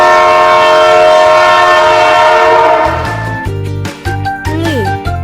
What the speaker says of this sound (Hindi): रे से रेलगाड़ी।